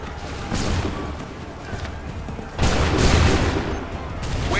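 Musket volley fire in Assassin's Creed 3, dense overlapping bursts of gunfire forming a loud, rumbling fusillade that swells midway and keeps rolling, heard fairly close.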